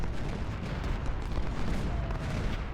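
Cannon artillery fire on a Civil War battlefield in Ultimate General: Civil War, heard as a dense, continuous roar of overlapping booms and rumbling blasts, loud and unbroken throughout.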